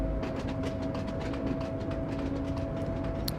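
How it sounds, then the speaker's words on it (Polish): Train wheels clatter steadily over rail joints beneath a Vectron BR 193 locomotive hauling a heavy freight train in Train Sim World 6, a loud, continuous rolling rumble with rhythmic clicks, with no voices. "Bardzo lubię ten stukat kół właśnie na tej linii kolejowej"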